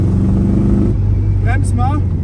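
A 1965 Volkswagen Karmann Ghia Type 14 engine rumbles steadily at a low idle, with a brief higher mechanical whine near the end; no talk over it.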